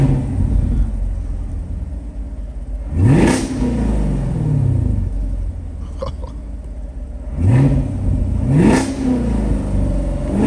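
Chevrolet Camaro SS V8 engine revving in a parking lot, three strong rising revs that sweep up and fall back over a steady deep idle rumble, close and loud.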